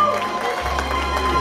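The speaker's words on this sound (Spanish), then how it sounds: "Un fuerte aplauso para ellos." Applause at a quinceañera celebration for the honor court, a quick patter of many hands from a gathered crowd, steady throughout over a low hum.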